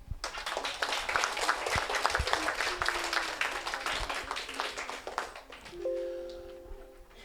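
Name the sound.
audience applause at children's council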